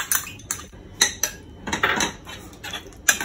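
A metal spoon scrapes and clinks against a pan while stirring prawn curry with red chilli powder and yogurt, making irregular close taps and scrapes, several sharp knocks spread through the stirring.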